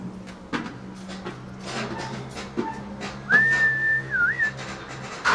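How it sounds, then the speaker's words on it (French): A roofer on scaffolding whistles to warn coworkers he is arriving: one clear, rising and wavering whistle of about a second, heard over a low hum and scattered clatter of site noise. "Alors ça, c'est siffler les coureurs, c'est pour prévenir les copains qu'on arrive"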